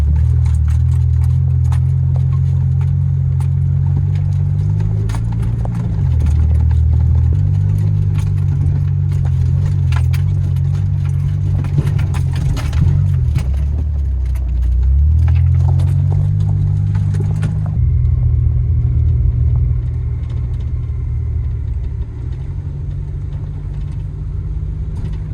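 A truck rolls along a rough road to a waterfall camping spot, its engine drone low and steady while bumps and rattles come through, and the hum changes pitch now and then.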